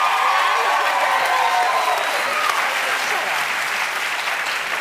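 A television talk show studio audience applauds, dense and sustained clapping that fills the room and fades slightly toward the end, with faint voices underneath.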